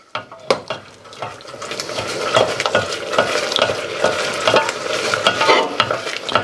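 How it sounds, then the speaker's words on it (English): Stock is stirred into a roux in a saucepan over medium-low heat, with repeated close scraping and whisking strokes at an uneven rhythm over a soft simmering sizzle and no voices. "we have to be patient and stir it really well to allow that stock to really get absorbed into your roux"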